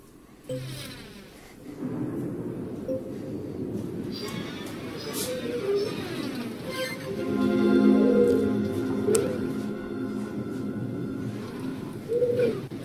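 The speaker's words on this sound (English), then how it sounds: "If the birds are nesting inside the roof, then this building's in worse shape than I thought." Birds nest inside the roof of a run-down building in a video game, their cooing and calls scattered over a low rumbling ambience with occasional bright chirps, moderately loud and without speech.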